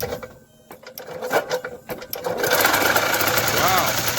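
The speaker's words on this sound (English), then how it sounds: "I'm just holding the gas a little bit to keep it running, because on a golf cart" Gas golf cart engine idling on a little choke, starting with uneven chugging beats and then settling into a loud steady rattling run.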